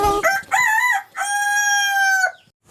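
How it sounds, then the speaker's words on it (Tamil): A rooster crows loudly and close, one full cock-a-doodle-doo with rising opening notes and a long drawn-out final call, alone and clear. "கோழி கூவும்."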